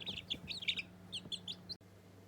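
Young chicks a little over three weeks old, growing in their adult feathers, make a run of short, bright peeps and chirps, several overlapping in quick bursts, moderately close and fairly quiet over a low steady hum.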